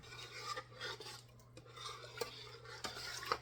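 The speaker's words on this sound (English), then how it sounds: "we'll stir that one up" Spoon scraping and stirring through a thick Cajun soup in a pot, soft repeated rubbing strokes with a few faint clinks against the metal, quiet and alone over a low steady hum.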